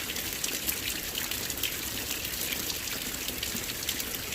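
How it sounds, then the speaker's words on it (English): Heavy rain pouring down during a tornado watch with a flood warning, a dense, constant hiss of falling water with scattered nearer drips and splashes throughout. "it's been raining heavy like this"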